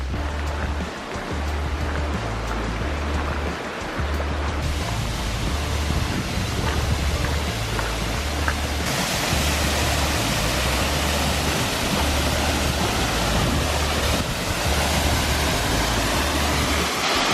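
McLaren Falls in New Zealand roars as a continuous, loud broadband rush of falling water, steady and unbroken throughout.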